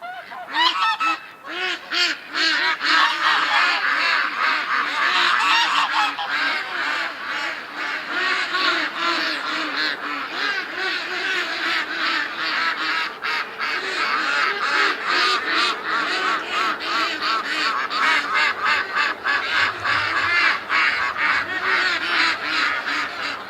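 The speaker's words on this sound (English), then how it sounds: "Good morning, ducks!" A flock of domestic ducks and geese kept at a home calls loudly and continuously from close by, overlapping quacks and honks in a dense, ragged chorus that barely pauses.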